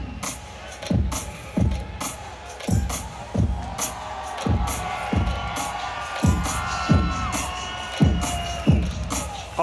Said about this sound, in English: A pop from this Daytona Beach, Florida crowd for the fighter from England, Jake Bostwick